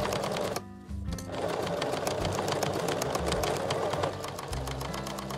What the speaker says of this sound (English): I'm using my triple stitch again, and I'm pulling my fabric quite a bit